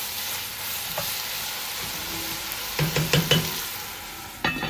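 Mutton pieces for a Bihari-style curry, salted and turning grayish, are stirred in a hot pot with a steady sizzle, followed by a few louder clattering scrapes near the end.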